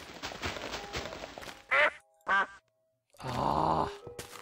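Duck in a modded Minecraft game gives short, nasal quacks, two brief isolated calls followed by a longer, louder drawn-out quack, close and clear against scattered game noise.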